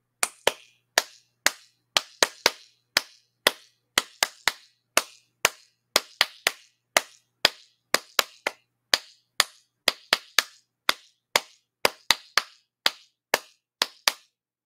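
Hands clap one at a time in a steady, sharp series of loud, close claps with short silent gaps, repeated dozens of times, with no talking.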